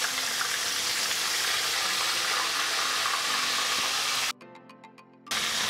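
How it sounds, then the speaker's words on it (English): Soft shell crabs frying in a pan of oil, a continuous loud sizzle and hiss that cuts out briefly near the end before resuming. "We should be cooking these crabs maybe just about 3 to 5 minutes."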